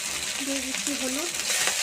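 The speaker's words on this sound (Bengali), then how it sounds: "মশলাটাকে আমি খুব ভালো করে কষিয়ে নেব।" Spices sizzle steadily in hot oil for a village-style cabbage curry (bandhakopir ghonto): ginger paste, dried red chilli paste, cumin paste, turmeric and salt. The frying hiss is close and continuous, with faint stirring.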